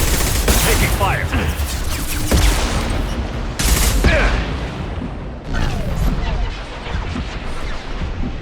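Sci-fi combat in Mass Effect 2 with heavy gunfire and explosive booms: loud, close bursts of shots and blasts repeat irregularly, with short lulls between volleys and a voice shouting amid the fighting.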